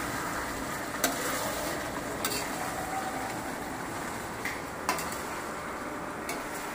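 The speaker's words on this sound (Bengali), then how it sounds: "ফ্রাই করা যে আলুগুলি ছিল সেই আলুগুলি আমার মা কষা মাংসের মধ্যে ছেড়ে দিয়ে আরও ভালো করে সুন্দর করে নাড়িয়ে চাড়িয়ে ভালো করে" Chicken kosha with fried potatoes being stirred in a pan, a steady soft sizzle with a few sharp utensil clinks against the pan, no voices.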